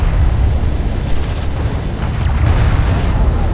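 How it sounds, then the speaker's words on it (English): Loud, continuous rumbling explosions and heavy fire pound around a light attack vehicle in the Homeworld: Deserts of Kharak strategy game, a dense low roar with a few sharper bursts layered on top. "Light attack vehicle is under fire."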